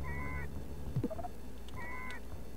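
Two shrill honking screeches from a pterodactyl in a video game, one at the start and one near the end, each short and harmonic, with a brief yelp-like squawk in between over low background noise.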